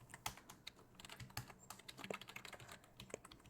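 Rapid typing on a computer keyboard while entering HTML code, irregular clicky keystrokes in quick bursts, close and fairly quiet, with no speech.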